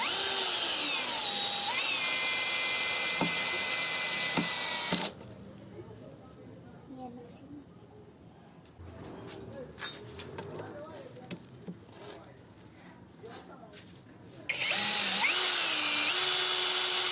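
A TANZU TZ-Z-80 MT-21V brushless cordless drill, in drive mode at torque setting 1, whines loudly and steadily up close, cuts off for several seconds of quieter handling noise, then spins up again.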